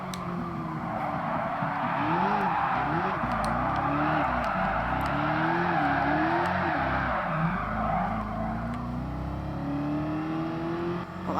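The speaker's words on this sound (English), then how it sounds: "Well, that was a okay drift." A police car in Gran Turismo Sport drifts with a long, steady tire squeal over a wavering, revving engine, and the sound stays loud and close for about ten seconds.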